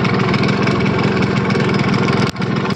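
A Yamaha RX100 two-stroke motorcycle, in worst condition after ten years unused with faulty wiring, runs loud and close right after starting, a steady buzzing idle with one brief dip.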